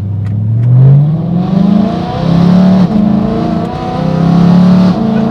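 A straight-piped BMW E92 M3 revs repeatedly, its engine climbing and falling in loud, raspy sweeps several times in a row, very close and dominant with no talk.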